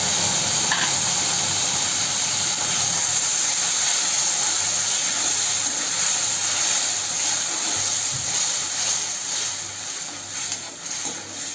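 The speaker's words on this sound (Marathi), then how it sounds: "आता त्यामध्ये आपण टमाट्याची पेस्ट टाकूया" Blended raw-tomato paste hits golden fried onion in a pan for a soybean curry, producing a steady, loud, continuous sizzle and hiss that holds throughout with no voices.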